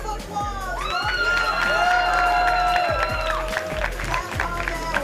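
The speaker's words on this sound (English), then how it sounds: "can I get a round of applause from you?" Audience at a Texas esports state championship applauds and cheers loudly, with whoops and shouts over steady clapping, while a bright electronic musical sting plays through the middle.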